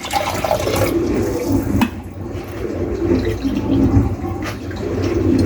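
Water pours into a measuring cup in a home kitchen, a steady splashing trickle with a couple of brief knocks and pauses, close and fairly loud.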